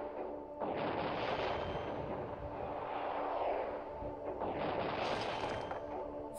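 Aircraft strafing gunfire in the strategy game World Conqueror 3, a dense, continuous rattle of shots and booms lasting several seconds, loud and steady with no talk over it.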